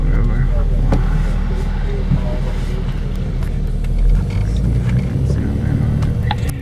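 A tour bus on a Denali National Park tour in Alaska drives along with a steady engine rumble and road noise throughout, while a guide talks over it.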